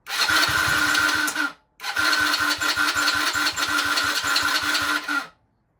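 A Tao Tao 110 cc ATV engine with a starting fault runs roughly, chugging unevenly with a rapid pulsing putter, stalling briefly, then catching again and running before cutting out.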